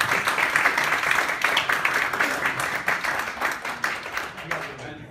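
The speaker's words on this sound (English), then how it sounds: "You can clap now." Audience applause follows a speech at a Christian–atheist debate on evolution, steady clapping filling the hall for several seconds before fading out.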